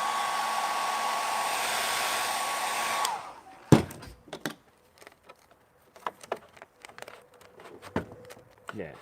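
A heat gun blows a loud, steady hot-air roar onto vinyl wrap on a car's center console for about three seconds, then cuts off, followed by scattered crinkles, taps and handling noises.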